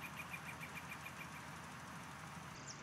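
Tractor engine in Farming Simulator 19 running steadily, a low continuous mechanical drone with a faint periodic ticking on top, moderately loud and alone throughout.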